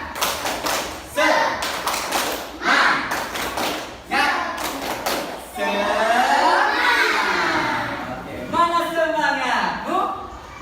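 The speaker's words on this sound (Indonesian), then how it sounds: "Mari tepuk semangat dulu." A school class performs a rhythmic spirit clap, sharp claps and taps in quick patterned bursts mixed with children's chanting and shouting voices, close and loud, with a teacher's voice leading between the rounds.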